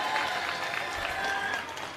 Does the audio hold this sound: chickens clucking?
no